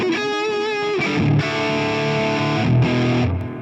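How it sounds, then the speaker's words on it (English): Electric guitar played through a Valeton GP200LT multi-effects unit with analog delay, distorted sustained chords ringing out with repeating echoes trailing each strike. "Let's go down to 10 to see where we are"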